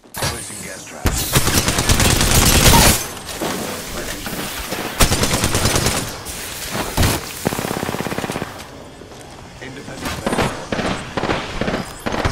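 Video game gunfire: rapid bursts of automatic shots and single cracks, loud and close, in clustered volleys separated by short pauses, with the game's ambient noise between.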